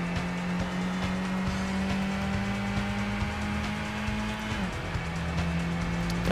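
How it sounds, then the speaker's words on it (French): A race car engine from the 1998 PlayStation game Gran Turismo drones with a steady, thin, vacuum-cleaner-like whine, its pitch holding and then dropping briefly as if shifting gear, continuous and close throughout. "la Gran Turismo avec ses voitures qui font un bruit d'aspirateur"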